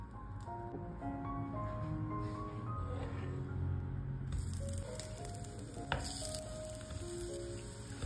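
Mini vegetable dosa frying in ghee on a pan, giving a quiet, steady sizzle under soft background music, with occasional light clicks and no talking.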